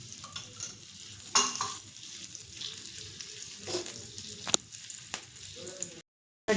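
Okra frying in oil on a tava over a gas stove, with a steady sizzle and metal scrapes and clatters as the pieces are stirred, loud and close with no talking.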